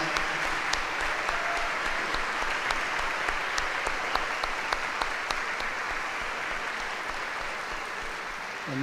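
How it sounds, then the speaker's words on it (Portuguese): Sustained applause from a church congregation at a Mass of the Trezena of Saint Sebastian in Rio de Janeiro honoring the parish pastor, steady and dense clapping with a few sharper claps standing out, filling the whole stretch without talk. "Queremos saudar o nosso pastor com uma salva de palmas"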